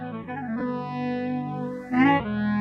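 A jazzy lofi house loop of sustained, warm chords plays with RC20 distortion, reverb and echo, sounding saturated and wobbly, with a swelling accent near the end and no voices.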